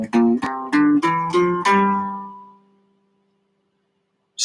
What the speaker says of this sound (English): The G Dorian scale is going to sound exactly the same